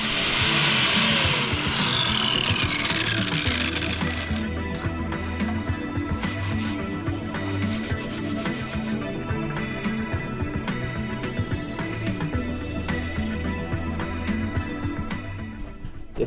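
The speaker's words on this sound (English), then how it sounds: "I've got a sanding disc. I'll put it on the grinder next, try that." An angle grinder fitted with a sanding disc works the rusty surface of a cheap aftermarket silencer from a Royal Enfield Classic 350. It gives a loud, continuous whine close by, harsh at the start and then steadier, with no talk.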